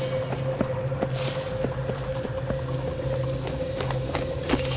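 Steady, even hoof clops of a horse walking at a slow pace, fairly quiet against a low constant hum.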